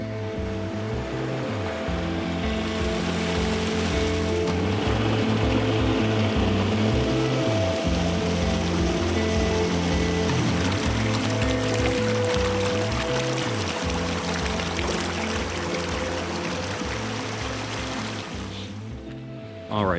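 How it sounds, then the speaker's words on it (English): Small glacier-fed creek on an alpine mountainside at sunrise, a steady loud rush of flowing water that holds constant throughout with no talk over it. "just past that little creek, little glacier runoff, pretty cool stuff"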